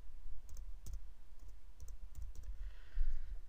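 Fingers tap keys on a computer keyboard while entering an email address, producing a short sequence of faint, close, irregularly spaced clicks.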